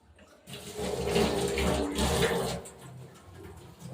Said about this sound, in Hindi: पहले हाथ धो लेते हैं।